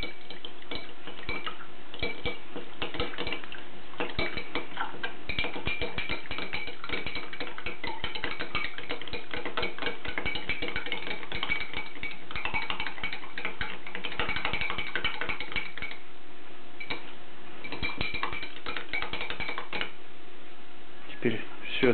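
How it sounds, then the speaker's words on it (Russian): A spoon stirs honey into a strained ginger tincture, tapping and clinking against the glass in quick, irregular ticks, moderately close. A voice talks over the stirring throughout. "Мед добавили и все это тщательно перемешиваем, чтобы мед разошелся."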